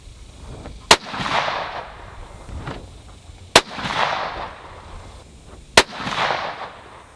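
Three loud rifle shots fired through an EC Tuner muzzle brake, each a sharp close crack followed by a rolling echo, spaced about two to three seconds apart at a shooting range.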